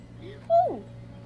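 A puppy in the video game Donut County gives a single short yelp with a rising then falling pitch, over a steady low hum and quiet game background.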